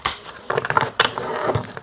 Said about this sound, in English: I will shuffle these cards 7 times.